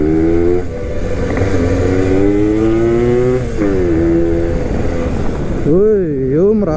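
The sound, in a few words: Suzuki Max 100 motorcycle engine running while riding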